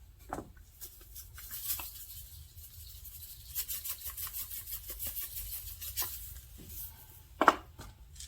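A worn pepper grinder that keeps acting up grinds pepper over pan-seared pork chops: faint, scratchy rasping bursts come in short repeated turns, with a sharper crack near the end.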